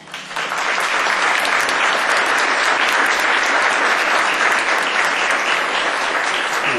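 An audience applauds a speaker from the cognition lab of the Faculty of Psychology at UNAM, Mexico, at a talk on the mind and reading. The dense, steady clapping fills the room for the whole stretch, with no voices over it.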